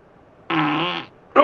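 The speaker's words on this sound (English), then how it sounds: "Fucking love those bath farts." One loud, close fart in bath water, a steady buzzing blast lasting about half a second, followed by a brief splashy noise.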